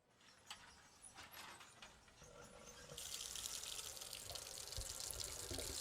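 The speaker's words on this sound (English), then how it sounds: "Come to the sink. Let's wash it before it stains." Water from a kitchen sink tap gushes on partway through, washing frosting off a shirt sleeve, and keeps running steadily and fairly loud, after some quieter handling clatter.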